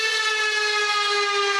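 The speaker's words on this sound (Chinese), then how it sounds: "一早起警报大响" A typhoon warning siren wails in a steady, loud, sustained tone with rich harmonics, unbroken through the whole stretch.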